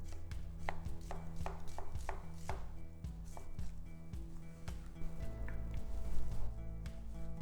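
A red onion is chopped on a cutting board with a knife, a rapid series of crisp close knife strikes falling in quick irregular bursts, with no talk.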